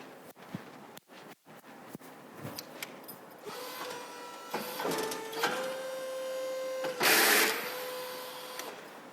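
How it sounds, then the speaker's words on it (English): Hydraulic variable-width undercarriage of an Ommelift 2350 crawler-mounted aerial lift extending, a steady motor whine with rising tonal hum and clicks, loudest in a brief hiss burst near the end, with no talking. "I will show the workings of the variable width undercarriage."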